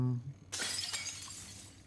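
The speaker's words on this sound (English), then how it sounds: "I swear they keep adding glass every time I go through it." Glass shatters in the video game Prey: a sudden, loud crash of breaking panes after a brief tonal sound, followed by scattered tinkling debris that fades out, with no talk.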